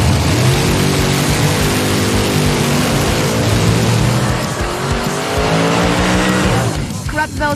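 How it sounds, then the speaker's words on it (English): A 1962 Lancer GT and a Barracuda, both chassis race cars, run side by side in a drag race, their engines roaring loudly and continuously up close, with tires squealing and a crowd talking underneath. "These are 2 legit chassis race cars."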